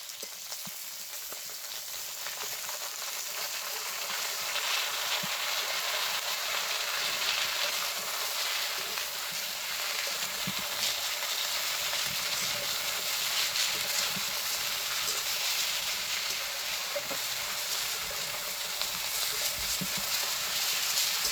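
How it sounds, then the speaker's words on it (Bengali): Beans and carrots with salt and turmeric sautéing in a pan, giving a steady, even frying sizzle with faint stirring scrapes, close and continuous with no talk. "হালকা একটু কষাইয়ে নিলাম।"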